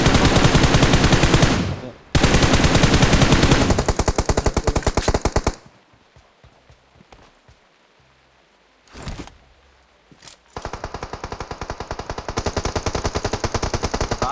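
Rapid automatic gunfire in PUBG Mobile rattles in long loud bursts, breaks off into a quieter stretch with a couple of brief shots, then resumes with sustained firing.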